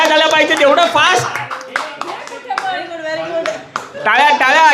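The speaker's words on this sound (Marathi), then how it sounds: "टाळ्या टाळ्या झाल्या पाहिजे तेवढं फास्ट" Group clapping fast during a playful outdoor game on an Independence Day motorbike ride, quick claps mixed in with loud shouting, laughing and chatter from the group.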